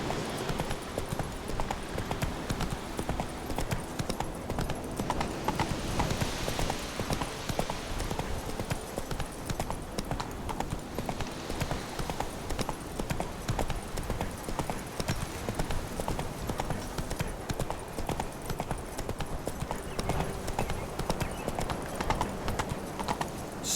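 Roach, Geralt's horse in The Witcher 3, gallops steadily with a rapid, continuous clip-clop of hooves, loud and close throughout with no pauses.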